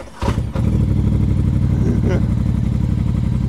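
A 2025 Polaris Sportsman XP1000 S ATV engine starts with a couple of sharp cranks, then settles into a loud, close, steady idle with a throbbing exhaust pulse.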